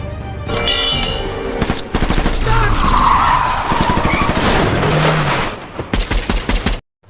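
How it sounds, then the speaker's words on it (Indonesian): A car skids and crashes in a film scene: loud tire screeching, then heavy impacts and crunching metal in several bursts over dramatic sound, ending abruptly. "Mobil yang ditumpanginya pun mengalami kecelakaan"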